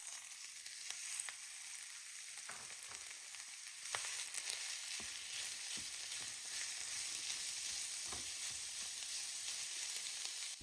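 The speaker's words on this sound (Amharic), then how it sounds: "ከዛ ስጋችንን ጨምረን መጥበስ እንጀምራለን።" Meat frying in a pan with a little oil, a faint, steady crackling sizzle with scattered pops and occasional stirring scrapes, heard alone without voices.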